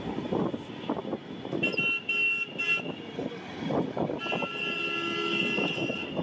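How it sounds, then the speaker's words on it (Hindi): Vehicle horns honk in short bursts and one longer blast over rumbling traffic noise nearby, heard from a Honda SP 125 motorcycle on D.H. Road, Kolkata. "हॉर्न बजा के स्पीड बढ़ा दिया है"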